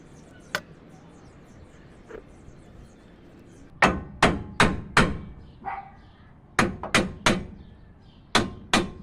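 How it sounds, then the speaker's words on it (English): A hammer strikes a wheel hub bolt on a 2005–2021 Nissan Frontier or Pathfinder during a front wheel bearing replacement. Sharp metallic blows ring out close by, first in a few isolated hits and then in quick clusters of three or four. "Right here I'm basically hitting on the bolt."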